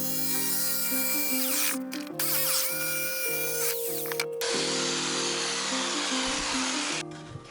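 A Bosch jigsaw cuts through plywood for a homemade tool box, its blade buzzing loudly and steadily with short pauses and changes in pitch as the cut goes on, close and without talk.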